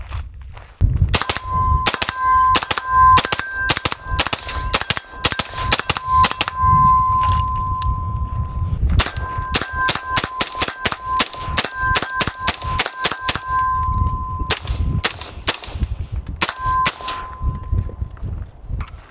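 PSA Sabre 11.5 rifle firing a long string of rapid shots, each followed by a bright ringing clang from a steel target, loud and close with a brief pause partway through.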